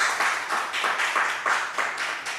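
Steady applause from a church lecture audience thanking an elder for his talk, dense and even with rhythmic swells, alone with no speech over it.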